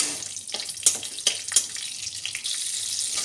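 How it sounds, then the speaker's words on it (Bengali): Nigella seeds and green chilli spit and crackle in hot oil for a fish curry, bursts of close sizzle with a few sharp pops between quieter gaps, no voices. "কাঁচা লঙ্কা একটা গন্ধটা তেলে ছাড়বে"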